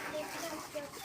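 A chicken gives a few quick, soft clucks in a short outdoor moment, fairly faint, with a voice murmuring faintly in the background.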